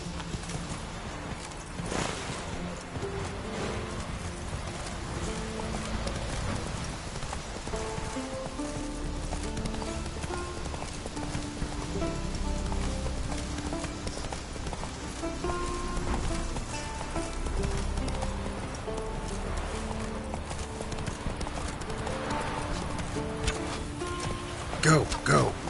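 Roach the horse gallops in The Witcher 3, a steady clip-clop of hooves under a patter like rain, with bursts of music and a voice talking over it.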